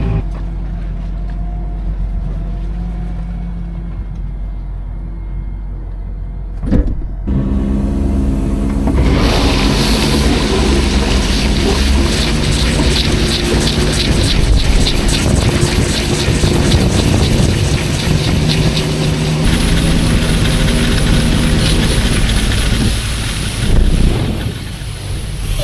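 A tractor spreads watery slurry across a field, a loud, steady rumbling wash of engine and spraying noise that swells after a brief knock and runs on continuously, with wind buffeting the microphone.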